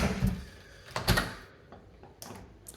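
A house's back door to the garage is opened, giving a couple of clunks and a latch rattle, close and fairly faint, with no talk.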